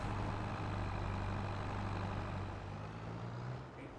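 A simulated truck engine in Farming Simulator 22 hums steadily while pulling a milk trailer, a low continuous drone with a faint broadband rumble that eases slightly toward the end.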